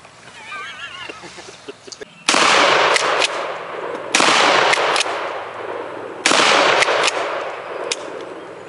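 A 12 gauge shotgun fires three loud, close blasts spaced about two seconds apart, each followed by ringing decay, after a stretch of quieter voices and background noise.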